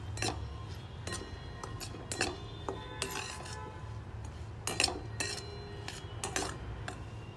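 A spoon stirs cardamom into a roasting flour mixture in a pan, with intermittent metallic scrapes and clinks close by over a quiet background and no talking.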